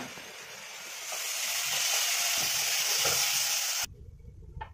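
A dosa cooking on a hot pan without oil gives a continuous sizzling hiss that swells slightly, with light scraping and stirring sounds, then cuts off to a faint crackle.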